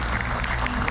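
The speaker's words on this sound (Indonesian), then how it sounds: "Kita berikan tepuk tangan. Bung Refli Harun." Dense crowd applause at a political talk show event for Bung Refli Harun, a steady wash of many hands clapping, loud and close throughout the short burst.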